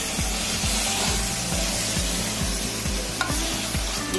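Chicken gravy masala sautés in a pan as a dense, continuous sizzle, with a steady rhythmic scraping of stirring running underneath, close and loud with no voices.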